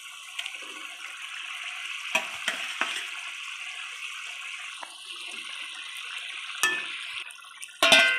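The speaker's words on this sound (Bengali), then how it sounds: "ঝোলটা ফুটে গেছে, এবার ভাজা করা মাছটা দিয়ে দেবে।" Fried bhola fish going into a bubbling curry broth, a steady hissing simmer with a few soft splashes and clinks, then a louder splash near the end, no voices present.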